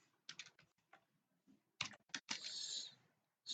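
Keys clack on a computer keyboard in short irregular bursts, a few quick taps followed by a rapid cluster and a longer rattling run, close and fairly quiet.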